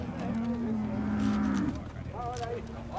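A bull at a cattle fair in Cachoeirinha, Pernambuco, gives a long, fairly close moo lasting over a second. Market bustle and people's voices carry on around it.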